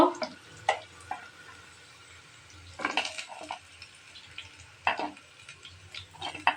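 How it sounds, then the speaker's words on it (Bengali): Onions fry quietly in oil until golden brown for a country chicken dish, with a soft hiss, punctuated by a few louder bursts of stirring and sizzling. "আমি লাল করে ভেজে দেখতে পাচ্ছেন বেরেস্তা ভাজা হয়ে গিয়েছে"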